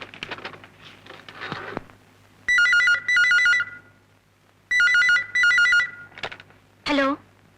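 A telephone rings in two double-burst electronic trills, each pair separated by a pause, loud and close in a quiet room, with soft shuffling and brief voices around the rings.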